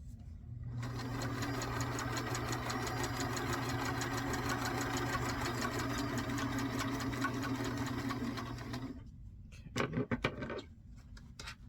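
A sewing machine stitches binding onto a quilt in one long steady motor run of about eight seconds, followed by a few sharp clicks and handling noises.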